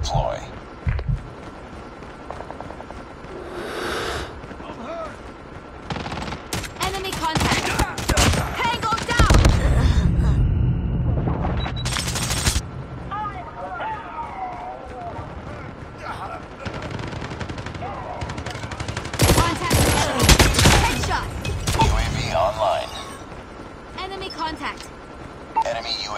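Bursts of gunfire in the mobile shooter game Call of Duty Mobile crackle in clustered volleys and rapid automatic runs, mixed with game radio voice lines and other in-game effects.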